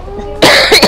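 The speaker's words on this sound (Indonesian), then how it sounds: "Saya agak batuk itu karena saya nakal kemarin." One loud, close human cough bursts out in two harsh pulses after a quiet moment.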